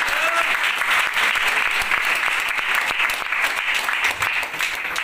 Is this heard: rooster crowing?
no